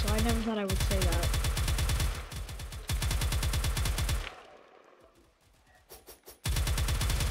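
Rapid automatic gunfire from a weapon in the video game Harbor Havoc rattles out in long, loud bursts, pauses briefly into scattered quieter shots, then resumes.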